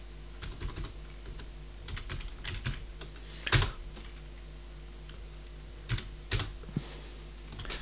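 Soft clicking of a computer keyboard as a command is typed, irregular clusters of keystrokes with a few louder taps, close and quiet over a steady low electrical hum.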